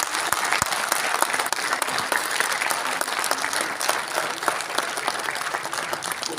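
A large hall audience at a union gathering applauds to pass resolutions, a dense, continuous roar of clapping that stays loud and even from start to finish.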